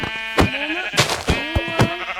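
Sheep in Minecraft Java Edition bleat several times in quick succession, with clear, close, wavering calls and no talking over them.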